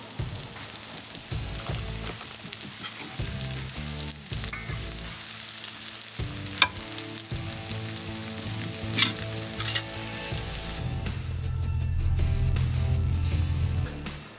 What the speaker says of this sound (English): Put some cheese down. Right on the griddle.